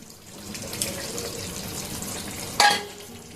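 Dissolved cornflour slurry is poured into a simmering soybean curry: a low bubbling sizzle runs throughout, then a short, sharp splash as the liquid lands near the end.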